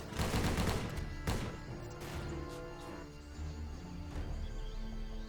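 Rifle gunfire in a war video game rings out as a few sharp, loud single shots with echoing tails and scattered impacts, set against a background game mix with no speech.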